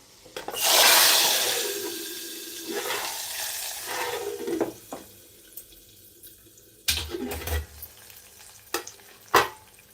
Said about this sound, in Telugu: ఫ్రెండ్స్ తాలింపు రెడీ అయిపోయిందండి ఇంకా దీన్ని మనం పప్పులో వేసేసుకుందాం